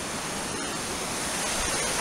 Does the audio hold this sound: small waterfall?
yes